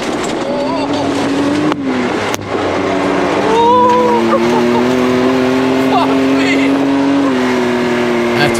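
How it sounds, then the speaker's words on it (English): Can-Am X3 off-road buggies driving cross-country, a loud steady engine drone with rising and falling pitch throughout, recorded from inside the buggy, with brief bumps and wind noise over the engine. "But it is fun though, driving in these buggies."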